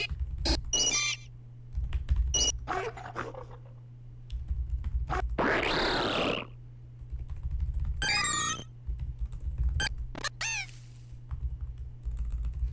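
Rapid typing on a computer keyboard during a Pokémon cry-naming speedrun, clicky keystrokes in bursts over a steady low hum, interrupted by short electronic game cries and chirps, with no talking.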